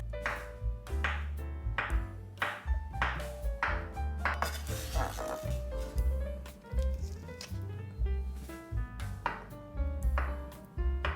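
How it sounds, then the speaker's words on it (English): A knife chops avocado into small cubes on a cutting board, with a steady run of close, crisp taps and knocks alongside soft clinks from dishes, and no one speaking. "I'll scoop it out onto my cutting board and I'll chop it into small cubes."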